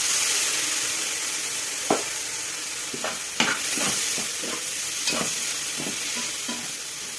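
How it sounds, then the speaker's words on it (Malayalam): Tomatoes fry in a pan under a constant close sizzle, with a string of sharp spoon scrapes and taps against the pan as they are stirred, no voices. "ഇനി നമുക്ക് ഈ തക്കാളി വെച്ച് കൊടുക്കാം കേട്ടോ"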